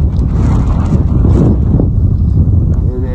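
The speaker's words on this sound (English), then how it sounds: "on a really brisk, windy day" Strong wind buffets the microphone in gusty, low rumbling bursts, loud and close throughout, at a grain elevator in Domremy, Saskatchewan.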